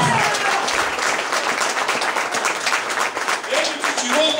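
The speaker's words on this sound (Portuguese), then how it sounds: "Você pode aplaudir Ele." A crowd applauding steadily throughout at a church gathering, a dense wash of clapping with a voice speaking Portuguese over it.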